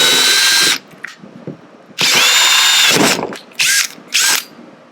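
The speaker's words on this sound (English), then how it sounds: "I should have drilled in and out, just go in and out." A power drill boring holes while building a DIY barricade, loud whining bursts of the motor starting and stopping, a long run, a shorter one, then two quick pulses, with quiet handling noises between.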